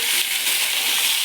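Spices frying for a banana curry, a bright, even hiss of sizzling oil with soft stirring, close and continuous.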